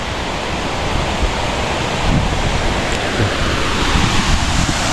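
Water pouring out of a spring-fed pool in Sainyabuli, Laos, a loud, continuous rushing wash close to the microphone, steady throughout with no voices.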